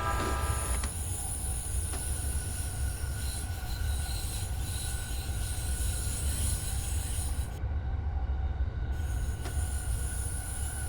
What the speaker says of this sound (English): Look at how long this train is.